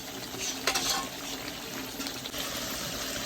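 Duck meat is stirred and fried in a pan, giving a soft, close sizzle with a brief scraping burst of stirring early on, then a quiet, steady frying hiss.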